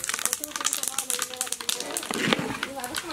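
Cinnamon and other whole spices sizzle and crackle in hot oil as the base for a kurma, a dense, steady spitting hiss running throughout with people talking over it.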